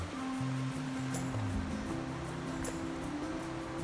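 Water flowing steadily along a stream in the Odaesan valley in autumn, a continuous broadband rush that stays even and close throughout, with a few low tonal hums underneath.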